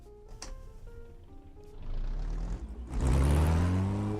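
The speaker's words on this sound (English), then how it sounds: "The car sounds like a tractor." A video game car engine idles low and chugging, roughly, then revs up with a rising, tractor-like growl that grows louder toward the end.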